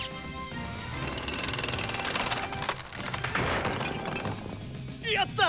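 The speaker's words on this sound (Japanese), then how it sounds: "ジャックハンマーセット。" A cartoon jackhammer from the Paw Patrol animated series pounds in a loud, continuous rapid rattle, mixed with crashing debris and lively background sounds, breaking off near the end.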